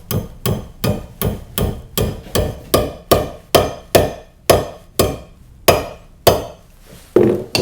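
A hammer taps steel wire held under tension in a vise to form a garden weeder, about fifteen sharp metallic strikes in a steady rhythm, close and loud, without talk.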